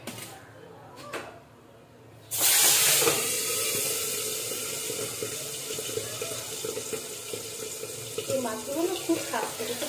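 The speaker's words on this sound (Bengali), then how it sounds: "আমি মাছগুলো দিয়ে দিচ্ছি।" Fish pieces dropped into hot oil in a pan burst into a loud, steady sizzle that starts abruptly after a quieter stretch and keeps crackling, with a few louder pops near the end.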